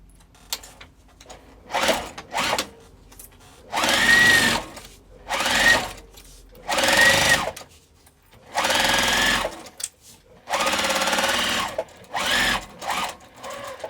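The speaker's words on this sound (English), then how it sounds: "Now I'm going to sew this" A sewing machine stitches a crossbody bag in about eight separate bursts of fast, whirring stitching, some long and some short, with quiet pauses between them and no talk.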